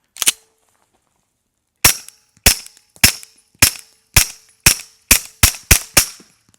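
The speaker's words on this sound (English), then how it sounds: "we've got a Gen 5 Griffin armament barrel inside of this Gen 6 Glock 45" Gen 6 Glock 45 fitted with a Gen 5 Griffin Armament barrel and an end-mounted suppressor, firing 147 grain subsonic 9mm: one sharp shot, then a pause, then nine crisp, evenly spaced shots that come slightly faster toward the end.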